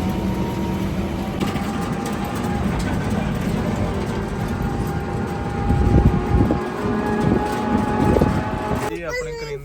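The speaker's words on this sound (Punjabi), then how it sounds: "ਪਲੇਟਫਾਰਮ ਤੇ ਟ੍ਰੇਨ ਆ ਗਈ ਹੈ" A train arriving at a platform rumbles and rattles nearby with a steady heavy roar and clanking, voices mixed into the busy noise.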